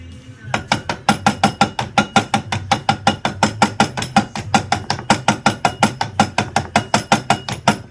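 Rapid, evenly spaced hammer taps drive a pin into a plastic action figure joint, a long run of sharp close clicks at a steady fast rhythm with no voices.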